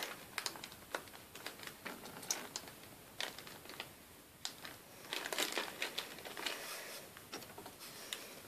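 A plastic bag of water crinkles and crackles softly in irregular bursts, close to the microphone, with small sharp rustles throughout and no voices.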